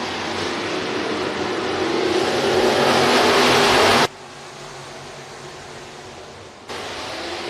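Sportmod and modified race cars at Crawford County Speedway roar off the green-flag start, a loud, dense wall of engine noise building steadily before dropping to a lower, distant drone.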